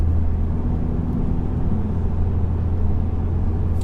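A 2016 Ford Focus ST-3 with a 2-litre diesel engine gives a loud, steady, low engine drone with a rumbling hum, heard from inside the car and continuing evenly throughout.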